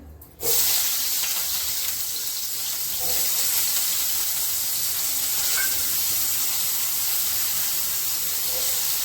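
Onion hits a hot pan for vegetable paruppu adai, bursting into a loud, close sizzle after a brief quiet start, then holding a steady hiss and crackle to the end.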